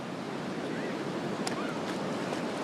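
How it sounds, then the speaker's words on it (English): Steady, washing rush of ocean surf breaking at a dog beach in Ocean Beach, continuous broadband roar with wind buffeting the microphone. "Look at that surf, guys."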